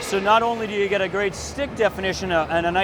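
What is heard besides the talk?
No everyday noise stands out behind the speech.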